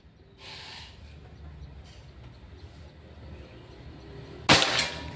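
Quiet outdoor background with a faint voice early on, then one loud, near crack from a Pajero Gun Gen 6 air rifle near the end during accuracy testing.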